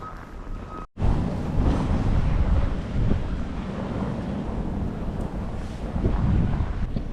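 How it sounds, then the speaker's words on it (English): Strong cold wind buffets the microphone outdoors in old Montreal on a sunny winter day, a loud continuous roaring rush after a brief cutout near the start. "Today it's sunny but very, very windy"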